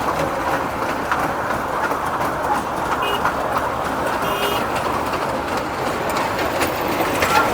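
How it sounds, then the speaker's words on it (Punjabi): A small toy train at the Sheetla Mata fair in Kulana rumbles along nearby with children riding, steady clattering and a few brief high squeaks, and no talking. "ਟ੍ਰੇਨ ਜਿਹੜੀ ਉਹ ਚੱਲ ਰਹੀ ਹੈ ਛੋਟੇ ਛੋਟੇ ਬੱਚੇ ਇੰਜੋਏ ਕਰ ਰਹੇ ਨੇ"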